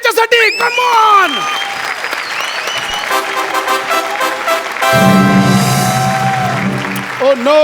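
Studio audience on a Marathi comedy show applauding for a contestant, a loud crowd burst rising under musical stings and a host's voice, swelling again near the end.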